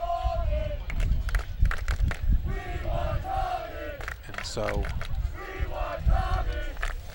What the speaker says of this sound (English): now some of the Ashland crowd starting to call for some of the kids who probably don't play that much